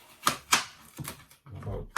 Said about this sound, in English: Just gonna dice up my onions, cut them in small bits